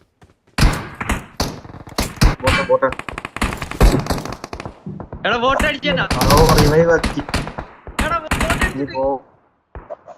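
Bursts of rapid gunfire and sharp shots from the mobile game BGMI crackle through most of the clip, mixed with thuds and excited voices talking over the action.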